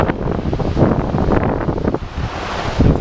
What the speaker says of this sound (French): le vent rentre fortement dans la maison